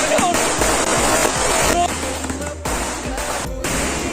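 Firecrackers burst at a wedding in Malappuram, Kerala, a rapid crackling chain of loud sharp pops and bangs, close and continuous, with several brief gaps.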